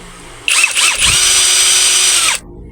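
Keelat cordless drill running in drilling mode, a loud close whine that spins up sharply, holds steady for about two seconds, then cuts off and winds down.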